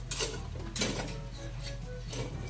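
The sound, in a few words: opening lid of boiling pork stew pot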